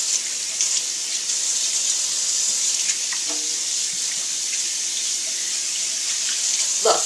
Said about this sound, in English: I'm going to wash my hands for 20 seconds and see how it goes.